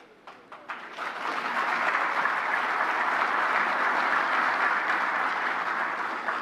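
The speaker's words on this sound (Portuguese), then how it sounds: "Eu gostei das palmas do Paulo Guedes." An audience of business leaders at a presidential speech breaks into applause, a few scattered claps at first swelling quickly into sustained, dense clapping that holds steady to the end.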